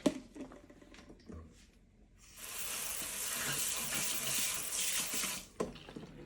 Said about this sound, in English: You get the sink wet.